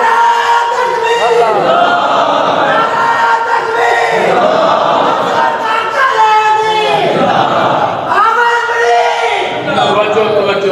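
A crowd at a religious sermon gathering shouts slogans in loud, repeated waves of massed voices, each surge rising and then falling away between bursts.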